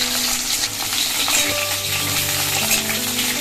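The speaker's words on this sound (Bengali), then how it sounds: "পটলটা একটু হালকা করে ভেজে নেব" Pointed gourd fries lightly in hot oil in a wok, a continuous loud, close sizzle with faint stirring scrapes and no voices.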